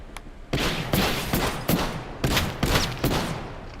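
Shotgun fire in Helldivers 2 goes off as a run of loud, close blasts about every half second, each a sharp crack with a short rough tail.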